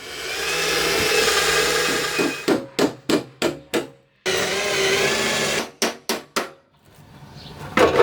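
A power tool cuts through the sheet metal body of a BMW 750iA V12, giving a loud grinding whine, then a series of short sharp bursts, another sustained cut and more rapid bursts, with no talking.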